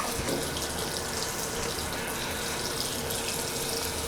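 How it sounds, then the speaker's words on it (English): Running tap water splashes steadily into a sink as someone rinses their face, a constant close-up gush without speech. "So I'm going to rinse really quick."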